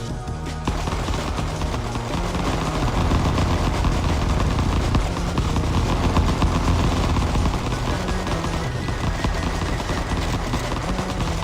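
Rapid, continuous machine-gun fire from a mech strafing an enemy in the video game Mecha Survivor, loud and dense throughout with a steady roar of blasts and no speech.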